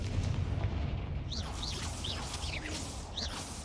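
Confringo explosion spell cast in the video game Hogwarts Legacy: steady booming rumble under a series of bright whooshing, chirping magical bursts that repeat every half second or so, fairly loud throughout.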